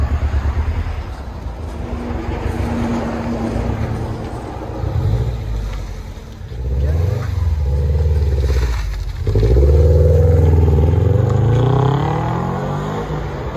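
A Subaru WRX STi with a 2.5 L engine and an Invidia cat-back exhaust revs repeatedly, its deep exhaust note climbing and falling in several close, loud pulls over a rumbling idle.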